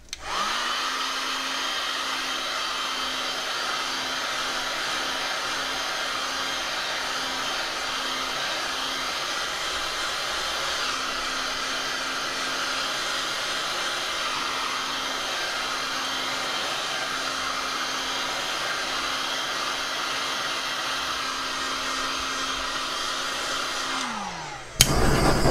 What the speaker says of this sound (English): I'm gonna heat it with my heat gun.